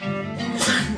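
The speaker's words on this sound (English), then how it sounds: "I don't know why I'm sneezing." A single sharp human sneeze, close and loud, with a brief intake building into an explosive burst lasting under a second.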